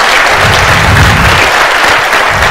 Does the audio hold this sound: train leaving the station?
no